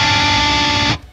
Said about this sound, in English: you're gonna hit a high-pitched dissonant chord